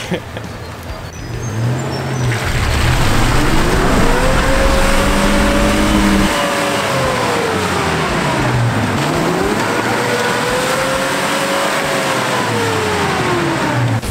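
Engine of a 4WD with an open front differential revving hard off-road as a lifted front wheel spins freely, rising and falling in pitch, loud and close with continuous rumble throughout.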